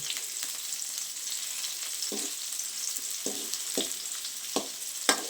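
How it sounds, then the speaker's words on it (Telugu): Tomatoes sizzle and roast in a hot pan for curry leaf chutney, a steady frying hiss broken by several sharp scraping stirs as they are turned. "ఇలా తిప్పుకుంటూ టమాటాలను కూడా ఒకవైపు కాలిన తర్వాత ఇంకొక వైపు బాగా కాల్చేయాలి."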